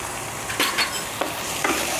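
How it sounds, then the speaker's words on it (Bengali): Papaya sizzling and frying in a pan, with a few sharp scraping stirs as ground cumin is mixed in. "জিরে গুঁড়োটা দেখুন দিয়ে আর একটু ভেজে নিচ্ছি"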